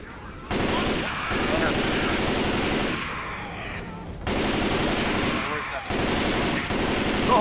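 Sustained machine gun fire in the Left 4 Dead video game, rapid continuous bursts broken by brief pauses, loud and close in a chaotic firefight.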